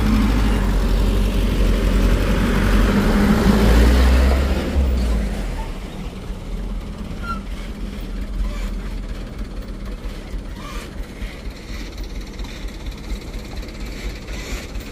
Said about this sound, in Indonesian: ini satu unit truk full diesel